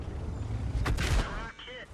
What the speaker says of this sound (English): Have to shoot TOG.